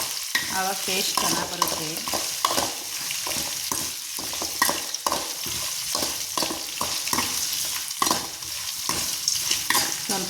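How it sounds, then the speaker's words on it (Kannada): Green chillies stir-fry in a pan until dry and browned, with a continuous close sizzle and repeated scraping stirs; someone speaks briefly over the cooking. "ಚೆನ್ನಾಗಿ ಡ್ರೈ ಆಗೋ ಥರ ಹುರಿ, ಕೆಂಪಗಾಗಲಿ."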